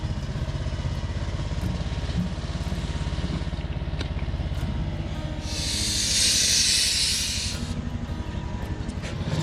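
H.K. Porter 1715 steam locomotive on its first run under steam, a steady low chuffing rumble with a loud broad burst of hissing steam venting for a couple of seconds midway.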